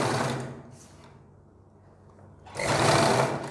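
A sewing machine stitches a neck design on a garment in two bursts, a short run at the start and a louder, steadier run near the end, separated by a quieter pause with faint handling.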